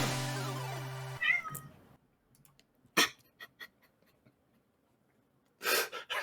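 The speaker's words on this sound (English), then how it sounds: "Stupid cat." A cat gives a few short meows and breathy sounds, separated by quiet gaps, after a brief burst of louder noise at the start.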